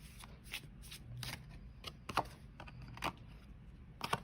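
Message cards for a reading are shuffled in quiet, crisp bursts of riffling and snapping, several short flurries in a row with brief pauses between them, no talking.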